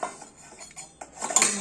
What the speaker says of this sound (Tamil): ஸ்பூனெல்லாம் இந்த மாதிரி இருக்கிறத எடுத்துக்கலாம்.